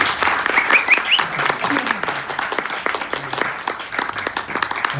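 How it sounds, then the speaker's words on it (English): An audience at a talk on writing books with AI breaks into steady applause after the presentation, many hands clapping at close range while voices speak over it. "Give him a great round of applause."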